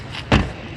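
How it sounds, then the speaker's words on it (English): A door is pushed shut with a single close, dull thump against faint background noise. "Close the door."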